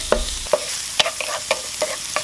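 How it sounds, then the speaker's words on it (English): Minced garlic, about six to eight cloves, being stirred in hot oil while it browns, with a steady sizzle broken by sharp spoon scrapes and taps against the pan roughly every half second. "I'm gonna brown a little bit of the garlic here"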